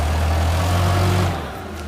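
A forklift rolls forward during a brake check, its engine a steady low hum with a strong low tone that drops off near the end as the truck slows and stops. Close and continuous, with no talking.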